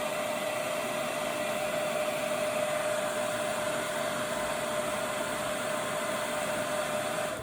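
A heat gun blows steadily and continuously at close range while heating the back glass of a Samsung Galaxy S20 Plus, a constant broadband hiss with a faint whine and no talk.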